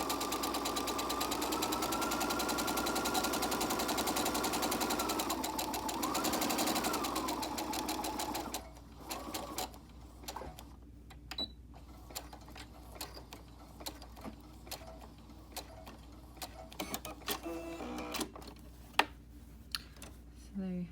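A sewing machine runs a 3/8 inch seam around the curve of a three-layer pocket mask, a steady whirring burst with a short pause and restart that ends after several seconds, followed by quiet handling clicks.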